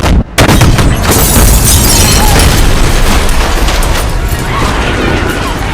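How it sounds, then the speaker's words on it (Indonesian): A parked sedan explodes in an action film, a loud broadband boom bursting out after a brief gap and then rolling into a long, dense roar of blast and debris that fills the whole stretch at near-constant loudness. "tiba-tiba saja mobil sedan yang terparkir di sana pun meledak"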